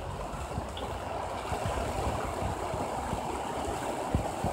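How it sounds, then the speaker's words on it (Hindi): Heavy rain pours down at an outdoor cattle market in Karachi, a loud, steady hiss and rumble of downpour that continues without a break. "आपको यहाँ कैमरे से नजर आए तो देखें कितनी तेज बरसात चल रही है।"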